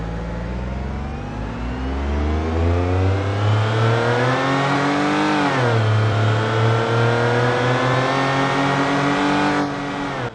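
A passenger car engine in the Automation car tycoon game runs a 0-62 acceleration test, revving up steadily through the gears with one shift dip midway, loud and alone with no talk.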